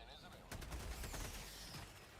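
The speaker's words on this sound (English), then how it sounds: "Grenades, dude." Video game firefight with grenades exploding amid bursts of gunfire, a loud cluster of booms and rapid shots starting about halfway in and rumbling on, over a steady background of game ambience.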